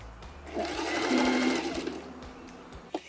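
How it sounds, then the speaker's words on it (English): A sewing machine stitches around the edge of a fabric bag, its motor running steadily and close for a few seconds before slowing and stopping, with a small click at the end. "So I'm gonna start sewing here, down this way, all the way around"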